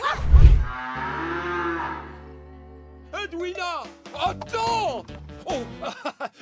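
A cartoon cow moos loudly in a long drawn-out call, followed by several people talking excitedly nearby.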